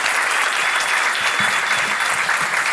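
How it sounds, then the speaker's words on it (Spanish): Strong applause for farmers at a land restitution gathering, a dense, continuous clapping wash at a steady level, with low murmurs faintly underneath. "quisiera pedir nuevamente un fuerte aplauso para ellos por su resiliencia"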